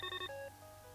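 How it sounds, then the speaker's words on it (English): A telephone rings in the video game The Pandora Directive, with a loud, electronic, warbling ring of two quick bursts followed by a steadier tone that fades. "And the phone is ringing."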